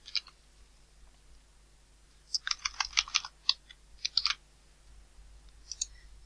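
Computer keyboard keystrokes and mouse clicks sound close by in a quiet room, first a short click, then a dense burst of rapid taps, a pause, a second quick cluster, and a few final clicks, with no talk.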